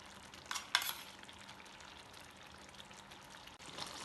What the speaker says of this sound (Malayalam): ഇത് ഇളക്കി മിക്സ് ചെയ്യാം.